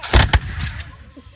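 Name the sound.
rifles fired in a ceremonial volley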